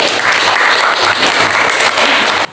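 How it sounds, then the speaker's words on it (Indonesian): Loud, dense audience applause fills a presentation hall, steady and close for a couple of seconds before cutting off abruptly at the end. "Tepuk tangan dulu."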